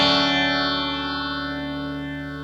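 Guitar run through amp cab emulation with a 1073 preamp emulation adding colour: a single sustained, harmonically rich chord ringing out with effects and slowly decaying, with no talking over it.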